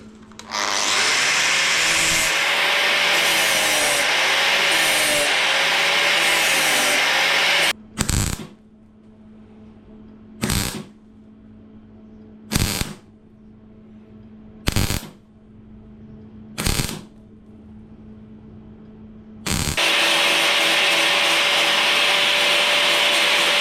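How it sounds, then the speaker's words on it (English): An angle grinder cuts into a metal fuel tank being trimmed: a loud steady whine, then five short sharp bursts separated by quiet gaps, and a final sustained grind. "Struggling to get the grinder in that bit now"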